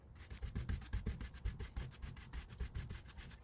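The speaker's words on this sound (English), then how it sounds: "Scrub that a little bit." A brush scrubs wood stain off concrete with paint thinner in quick, rhythmic back-and-forth strokes, a gritty rubbing close to the microphone with about two strokes per second and no talking.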